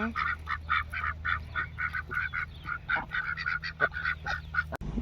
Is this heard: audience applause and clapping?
no